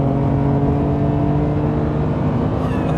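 A BMW M3 CSL accelerating hard, a loud, steady engine roar from inside the car, with its tone climbing slowly and no speech over it.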